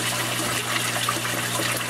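Water poured slowly into a basement fish tank holding rainbow trout, a continuous trickling gush alongside a steady low hum from tank equipment.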